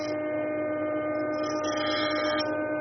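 A jointer in a woodworking shop planes the edge of a board square to the fence, giving a continuous, even machine hum and whir with a slight rise in rough cutting noise partway through.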